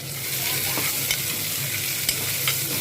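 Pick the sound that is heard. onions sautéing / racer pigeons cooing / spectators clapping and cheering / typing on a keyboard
onions sautéing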